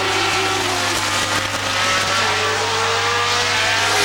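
Formula One race cars at the 1977 Dijon Grand Prix roar steadily through the whole stretch, a continuous loud engine drone with shifting pitch as cars pass, and no voices on top.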